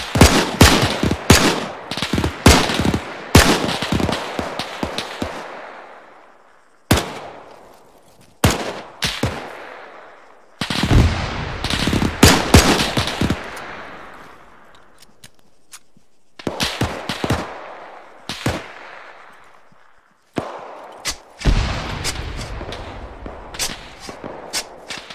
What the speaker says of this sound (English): There's an MG42 to our east